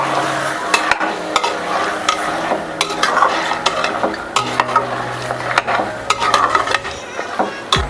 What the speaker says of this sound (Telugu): ఇప్పుడు మటన్ ముక్కలు మొత్తం కలిసేలాగా ఒకసారి కలుపుకుందాం